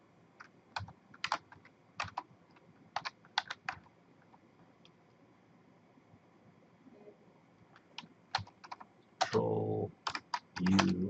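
Bursts of computer keyboard typing as Linux terminal commands are entered on a server, quick clustered keystrokes separated by pauses, ending in a few louder, heavier key presses.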